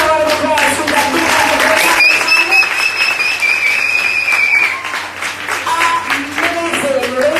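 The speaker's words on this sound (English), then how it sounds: "Let me give another round of applause" Loud crowd applause at an evening event honoring dancehall artist Spice, energetic clapping mixed with cheering voices, whistles and a long sustained whistle tone, with talk over parts of it.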